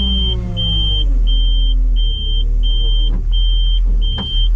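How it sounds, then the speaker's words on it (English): A hook lift truck's engine idles low, just around 1,000 RPM, a deep steady rumble close by with a slight rise in revs, while a reversing beeper chirps repeatedly in an even rhythm over it. "giving it little RPMs, not much over 1K, but it's enough to get it going"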